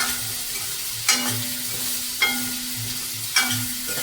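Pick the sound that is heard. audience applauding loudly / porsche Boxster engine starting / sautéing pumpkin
sautéing pumpkin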